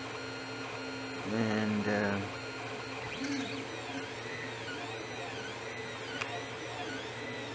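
A 3D printer prints a bilge pump part with a steady mechanical hum and sweeping, whining stepper-motor tones, close by; a voice speaks briefly near the start.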